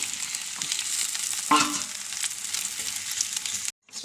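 Green chillies and shallots frying with spices in hot oil for a roasted-coconut sambar, a steady close sizzle with a brief louder crackle midway as the pan is stirred.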